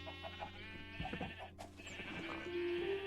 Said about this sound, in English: There's way too many sheep in here.